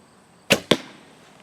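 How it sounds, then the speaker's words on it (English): Compound bow releasing an arrow on a range, a sharp close pop followed a split second later by a second crisp impact-like crack, otherwise quiet. "Do you hear the pop on that compared to those other bows?"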